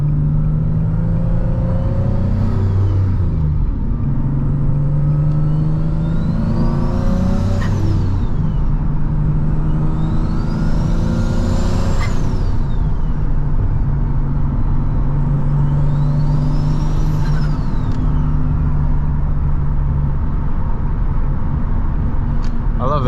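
A turbocharged Nissan 370Z pulls hard through repeated high-RPM acceleration runs, its engine note climbing and dropping in several loud sweeping waves over a steady close road rumble.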